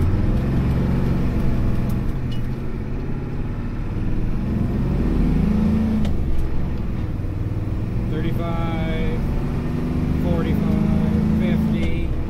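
A 1988 Ford F250 with a turbocharged IDI diesel accelerates from a standstill at night, its engine roar and wind noise continuous and loud throughout, with someone talking over it.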